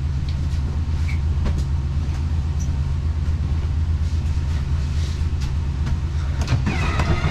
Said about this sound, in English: Well, the slide out's coming out.